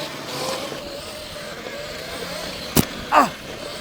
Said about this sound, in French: Une voiture en face.